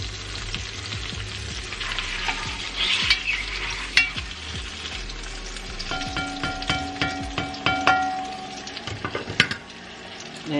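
A Cornish hen and potatoes sizzle loudly in a Dutch oven, close by, while the food is stirred and turned. Scraping and clattering against the pot break in again and again over the constant frying hiss.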